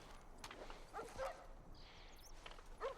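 A dog in The Last of Us Part 1 gives a few short, faint yips and barks against a quiet game ambience, heard alone without talk.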